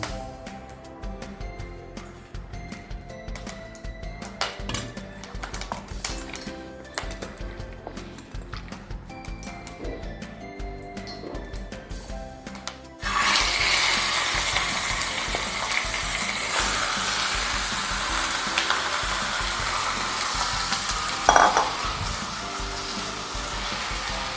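Chicken cooking in two spoons of homemade ghee, stirred with a spoon, gives a steady close sizzle that swells louder partway through, with occasional scraping clinks of the spoon against the pan.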